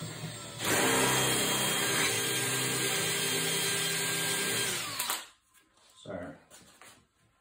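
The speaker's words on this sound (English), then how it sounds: "I'm just going to drill the right size now for the dowel." A power drill boring a dowel hole in a wooden desk chair whirs loudly for several seconds, its pitch steady then dropping as it stops, followed by brief quieter handling noises.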